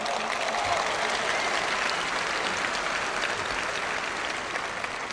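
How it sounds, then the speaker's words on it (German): An audience applauds during a political speech by Gregor Gysi, with steady, dense clapping from a large hall crowd that holds at an even, loud level throughout. "Applaus"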